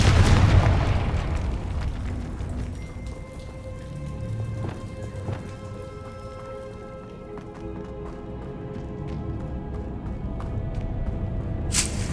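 A Confringo blasting spell from the Hogwarts Legacy video game bursts loudly at the start, followed by sustained crackling debris and scattered sharp impacts that fade into a lingering rumble.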